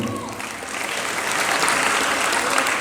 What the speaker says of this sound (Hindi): मतलब ताली बजा रही सबने।